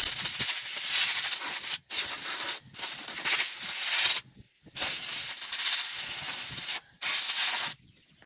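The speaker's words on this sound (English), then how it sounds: "I'm just going to blow it out with more compressed air" Compressed air blasts through a Craftsman rototiller's air filter in loud, close bursts of harsh hiss, each lasting one to two seconds and separated by short silent breaks.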